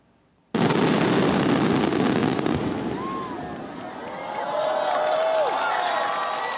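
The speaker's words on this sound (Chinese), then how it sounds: "超过27000发的高空烟火表演，伫民众的欢呼声内面结束" Aerial fireworks over the sea at Dongshi Fisherman's Wharf, Chiayi County, Taiwan, roar continuously, with rising whistling shells and booming bursts over a distant, cheering crowd's murmur.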